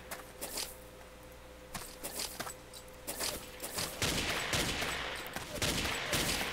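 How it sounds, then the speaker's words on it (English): Gunfire in the Ace of Spades video game: scattered sharp shots and short bursts ringing out over a steady low hum, growing denser and louder toward the end. "This guy's just shooting at nothing."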